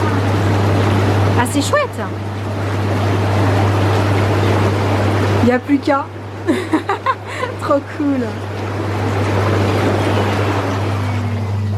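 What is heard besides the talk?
jacuzzi motor making bubbles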